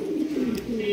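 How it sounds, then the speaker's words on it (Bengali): Two large King pigeons coo together in low, rolling calls, near and steady, with one brief faint hiss in the middle. "বিশাল সাইজে একজোড়া কিং কবুতর দেখতেই পাচ্ছেন"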